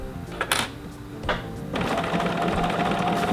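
A sewing machine with a walking foot stitches straight along quilt binding, starting after a few sharp clicks and handling knocks, then running as a steady, close, even mechanical whir to the end.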